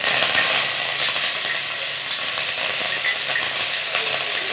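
Curry leaves crackle in hot oil in a pan for Punjabi kadhi pakode, a loud, steady, dense sizzle that holds without a break for the whole stretch, close up, no voices.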